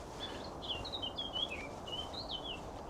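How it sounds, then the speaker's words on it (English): Blackcaps sing several quick, warbling phrases at moderate distance on open moorland, over a faint background hiss of insects and wind. "Blackcaps all over the place."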